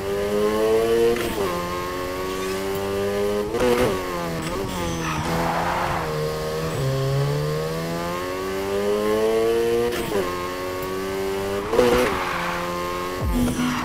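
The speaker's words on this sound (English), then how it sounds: "You're drifting." A car drifts in the Need for Speed Heat racing game, its engine droning at rising and falling pitch beneath long wavering tire squeals as the slide is held through corners.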